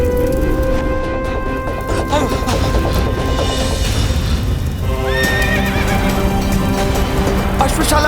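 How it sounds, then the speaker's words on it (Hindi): Horses in a burning stable neigh and whinny frantically amid clattering hooves and chaotic crashes, loud and close, with shouting voices mixed into the commotion. "अश्व तो अनियंत्रित हो चुके हैं, कहीं कुचल ना दे हमें।"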